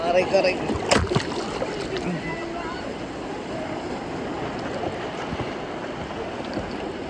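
Steady rushing wash of sea waves close by at a beach in Bolinao, Philippines, with wind buffeting the microphone and brief voices nearby.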